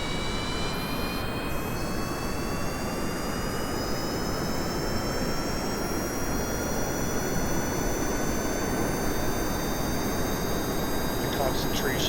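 Rocket engine running at full throttle in Kerbal Space Program, a steady, loud roar with rising whine tones, continuous and unbroken throughout.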